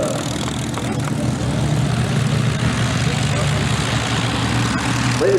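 The P-51 Mustang 'Gunfighter' propeller plane drones loud and steady as it flies at a 1994 CAF air show in Frederick, Maryland, while an announcer talks over the engine noise.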